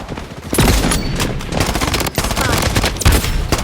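Loud, close bursts of rapid automatic gunfire with a few sharp single shots, the staccato cracks of a video game firefight.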